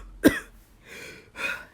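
A voice imitates a cough while reading a Dr. Seuss story aloud: one sharp, loud cough burst, then two softer, breathy huffing sounds like whiffs, with no other talk.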